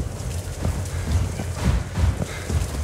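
Quick, evenly paced footsteps of an animatronic running in the horror video game TJOC: Reborn thud along without a break, loud and close, with no voices heard.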